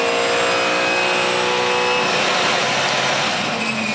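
A race car engine screams at 7,500 revs at Turn 2 of Phillip Island during a practice session, loud and sustained, a dense high-pitched whine holding steady with no pause.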